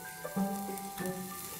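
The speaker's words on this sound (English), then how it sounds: "If there is still room in the frying pan, you can add another batch of apple slices" Apple slices fry in a pan with a little sprinkled water and agave syrup, giving a quiet, steady sizzle with faint crackles, close and alone.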